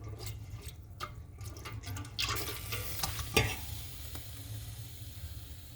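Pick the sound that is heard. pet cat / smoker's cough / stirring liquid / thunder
stirring liquid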